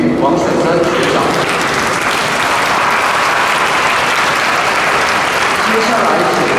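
Loud, sustained applause from a crowd at a school anniversary ceremony honouring an outstanding alumnus, thick continuous clapping that holds steady from start to finish.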